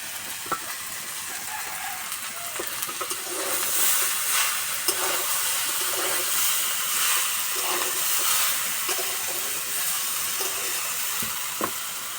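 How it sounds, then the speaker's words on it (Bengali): Jackfruit and mixed vegetables fry in a pan for a vegetarian curry, giving a steady hiss and sizzle with occasional stirring scrapes throughout, close and fairly loud, no voices. "সবজি ভাজা হয়ে গেছে"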